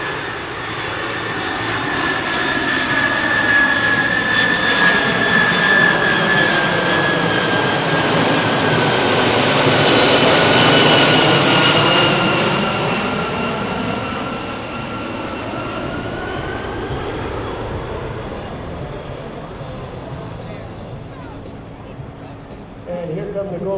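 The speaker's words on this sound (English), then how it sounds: "Here you go, ladies and gentlemen, slow flight, the C-5M Super Galaxy." A C-5M Super Galaxy military jet transport makes a slow flyby at the Dover AFB air show, its loud broadband jet roar swelling to a peak mid-pass then fading, with an announcer talking over it.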